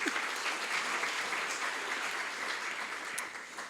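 Audience at a State of the City event applauds the city council members, a full, sustained round of clapping from many hands that holds steady and then begins to taper off.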